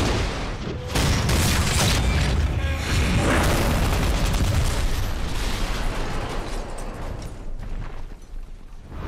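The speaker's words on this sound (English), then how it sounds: "I love how she flips you over just to shoot you down with a barrage of rockets." Titanfall 2's Tone Prime execution fires a rocket barrage: a loud run of booming blasts and bursts that merge into a sustained rumble, then fade slightly toward the end, with no speech.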